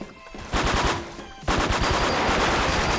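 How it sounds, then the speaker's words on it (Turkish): Gunfire in the online shooter Wolfteam: rapid automatic bursts of shots in quick succession, loud and close, with a brief pause before the firing resumes and continues steadily. "20 tane mermi sesi geliyor"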